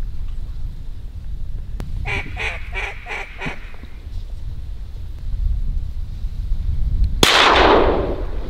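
During a mixed-bag duck hunt, a single loud shotgun blast rings out near the end, following a run of rhythmic duck calls earlier amid outdoor background noise.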